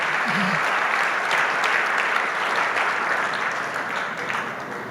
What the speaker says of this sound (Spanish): Vamos a darle ese aplauso fuerte al Señor.